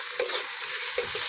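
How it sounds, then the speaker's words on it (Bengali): Chopped onion and garlic sizzle in hot oil in a pan, a steady hiss with two quick stirring scrapes, close and alone. "পেঁয়াজ আর রসুনটা ভালো করে ভেজে নেব।"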